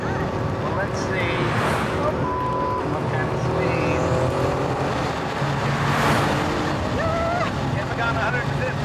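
A fast car driven hard on a track, engine roaring steadily and loudly throughout, with a brief brake-and-corner moment; excited voices talk over it the whole time.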